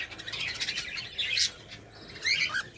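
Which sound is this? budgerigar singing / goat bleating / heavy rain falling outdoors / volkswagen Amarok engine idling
budgerigar singing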